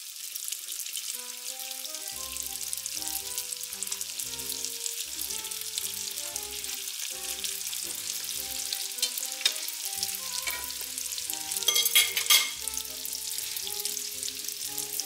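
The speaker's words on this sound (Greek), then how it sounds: "όσο ζεσταίνεται το λάδι, τόσο λιγότερο χρόνο θέλουμε να το τηγανίσουμε" Sausage-filled piroshki frying in hot oil, a steady crackling sizzle running throughout, with a few louder bursts of spitting oil near the end, heard alongside background music and no speech.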